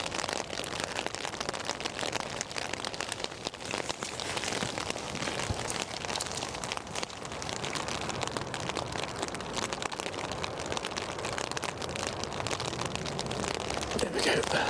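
Steady rain pours down on a wet day at Edinburgh Airport, a dense, even hiss of drops hitting surfaces that stays loud and continuous throughout.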